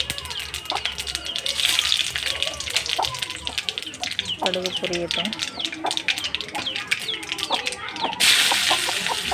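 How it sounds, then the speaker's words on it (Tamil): Mustard seeds crackle and pop in hot oil in a pan, dense rapid sputtering bursts throughout, with someone talking over the frying. "கடுகு போட்டாச்சு. கடுகு பொரியட்டும்."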